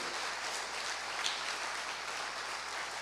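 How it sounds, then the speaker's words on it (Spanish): A church congregation applauds together, a steady wash of clapping that holds at an even level throughout, with no talking over it. "Denle un aplauso al Señor."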